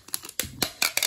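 Scotch heavy duty packing tape from a brand new roll is pulled off a dispenser in several short, sharp ripping bursts, close and fairly loud, with no talking.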